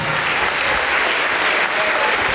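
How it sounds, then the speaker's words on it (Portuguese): A large crowd at a church service applauds steadily and loudly, a dense, continuous wash of clapping that holds throughout. "E vamos aplaudir ao Senhor Jesus por cada vida que está chegando"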